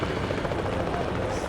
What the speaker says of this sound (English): Look at the helicopters.